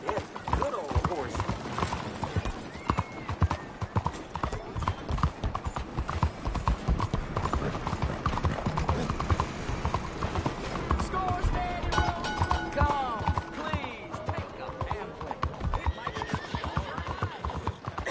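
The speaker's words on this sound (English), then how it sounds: "Good old horse." In a video game, a horse's hooves clip-clop in a steady, close rhythm, with a horse neighing partway through, while game characters talk over the hoofbeats.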